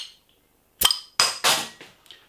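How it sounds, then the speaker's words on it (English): A bottle of Craftwerk Hop Head IPA, a German craft beer from a Bitburger-owned brewery, gives several sharp close clinks and bursts of glass against glass, separated by short pauses, with no talk. "Let's get the beer out into a glass and see what we get."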